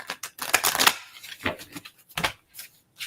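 A deck of oracle cards is shuffled by hand, close riffling and flicking bursts in an uneven rhythm.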